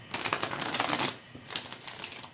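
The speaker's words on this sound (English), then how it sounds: "let me just shuffle a couple times here" A deck of tarot cards being shuffled close up, two bursts of rapid riffling flutter separated by a short pause, with no one speaking.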